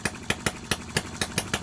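A working miniature Lister D petrol engine runs on its first start, firing in a steady, rapid putt-putt rhythm of sharp, evenly spaced beats, close and alone.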